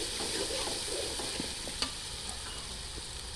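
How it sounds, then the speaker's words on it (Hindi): Ginger garlic paste sizzles and fries steadily in a hot pan while being stirred for fish pulao, a continuous close hiss with faint spatula scrapes. "अदरक लहसुन के पेस्ट को थोड़ा सा भून लेंगे।"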